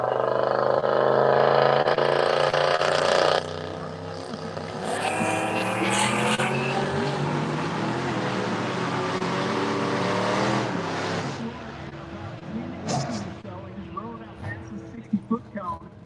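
Drag race between a 1979 Pontiac Grand Le Mans and a 1996 Camaro: loud engine roar and tire noise in the opening seconds, then sustained racing engine sound that fades toward the end, with an announcer talking throughout.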